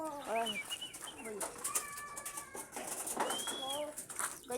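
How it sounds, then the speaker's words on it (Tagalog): Pigeons coo repeatedly at close range, soft rolling calls in short bursts, over a quiet background with faint rustling and a voice in the distance. "Ganyan ang mga kalapati namin."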